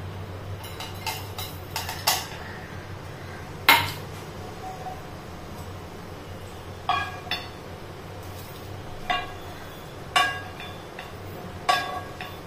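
Roasted spices and coconut are moved from a pan into a dish, with scattered metallic clinks and taps of a spoon against cookware at irregular intervals over a faint steady background.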